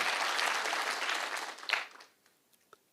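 Audience applause at a public security forum in Kakamega County, a dense wash of many hands clapping that fades out after about two seconds, leaving a few scattered claps.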